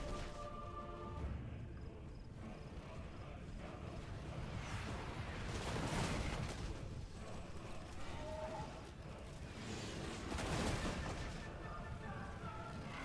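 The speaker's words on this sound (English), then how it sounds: "Crossbows opening fire." Crossbow volleys open fire in a Total War: Warhammer 2 battle against a Lizardmen force. Dense, overlapping bursts of release sounds and impacts rise and fall through a busy battle din, with faint speech underneath.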